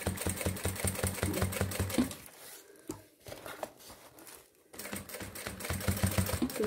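A sewing machine stitching a synthetic, sublimated thermal bag runs in a fast, steady rattle, pauses briefly midway, then resumes loud and close.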